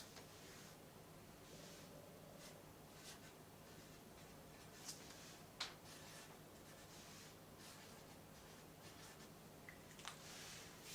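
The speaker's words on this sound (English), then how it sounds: "I've just cut out a strip of paper and I've got my pen ready. So on here I'm going to write" A pen scratches faintly and steadily across a narrow cut strip of paper, with soft rubbing strokes and a few small taps close by in a quiet room.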